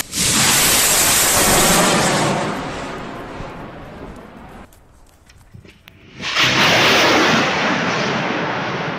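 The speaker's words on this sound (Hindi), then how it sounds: "एक घर के पीछे किया ताबड़तोड़ रॉकेट हमला" Rocket attack explosions behind a house in Gaza roar as heavy, close booming rumbles, a loud sustained blast, a brief lull, then another powerful roaring wave.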